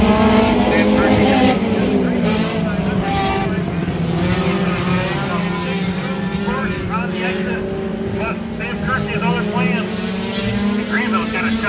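Sports compact race cars pushing through turn four, with loud, continuous engine drone and shifting revs of several cars passing close together, while a commentator talks over the noise.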